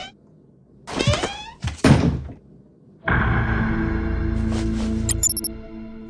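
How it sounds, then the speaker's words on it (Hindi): A door in an animated Tobot episode is pushed shut with a couple of muffled thunks and a creak, followed by a sustained, fairly loud hum that fills the rest of the moment. "दरवाजा बंद करो"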